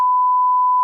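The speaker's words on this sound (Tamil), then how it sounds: "நான் வீடியோ கண்டிப்பாக பீப் போட்டாகணும்" A steady, loud censor beep, a single pure tone held unbroken for under a second and masking the speech beneath it.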